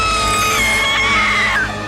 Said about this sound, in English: why the hell was she just standing there screaming like this?